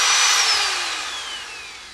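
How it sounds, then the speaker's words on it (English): Drill boring at an angle through the bottom of a wooden pipe bowl: a steady, loud whirring grind that holds close and slowly tapers in pitch and level over two seconds, with no voices. "So I drilled through the bowl, in the bottom of the bowl, at an angle"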